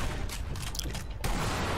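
Gunfire in the sniper shooter game Sniper Elite V2, a burst of sharp cracking shots with mechanical clatter, followed by a sudden louder blast near the end.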